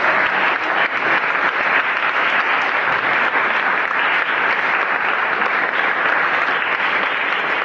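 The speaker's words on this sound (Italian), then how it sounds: "vorrei un applauso per Andrea Becciro" An audience at an Italian event applauds loudly and without a break, dense clapping that fills the room.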